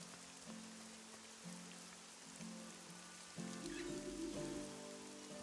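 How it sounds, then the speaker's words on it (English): Rain falls in a video game, a soft, constant patter under quiet humming tones and a low droning background, with the level stepping up slightly near the end. "I told you it was going to rain"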